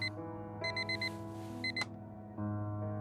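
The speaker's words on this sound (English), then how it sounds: "The same alarm tone that Harry can sleep through." Repeating electronic alarm clock tone in the video game Fragments of Him, sounding in short bursts of rapid beeps over a steady background hum, fairly loud and close.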